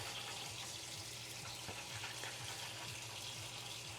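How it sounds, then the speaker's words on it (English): A kitchen tap runs steadily while a spoon is rinsed beneath it, a constant faint rush of water with soft clinks and no voices. "Let me wash this spoon and I'll go grab it."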